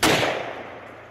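A single gunshot is fired into the air outdoors to scare off a predator: a loud, close blast with a long rolling echo that fades over about a second.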